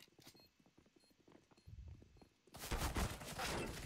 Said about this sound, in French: il y a un idiot qui me tire dessus